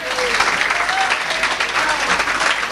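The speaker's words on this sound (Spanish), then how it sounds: "mirá, nos aplauden" A crowd on the street in Ayacucho claps steadily, dense continuous applause close by with a few faint voices mixed in.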